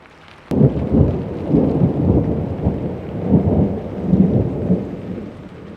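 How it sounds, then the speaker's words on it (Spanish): Background rain and thunder: a sharp crack opens into deep, rolling thunder rumbles that swell and fade over a steady patter of rain, loud and continuous with no voices. "Hoy pondré lluvia de fondo en todo el video"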